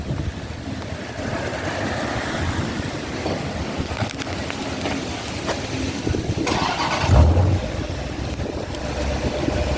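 Jeep Grand Cherokee SRT, a 2019 model, with its exhaust refitted with new 5-inch black tips, giving a steady, loud engine and exhaust rumble that swells briefly near the end, with no talking.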